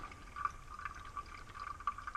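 Hot water poured from a kettle over coffee grounds in a Chemex, a soft, steady close trickle with faint splashy surges, quiet and continuous with no talking.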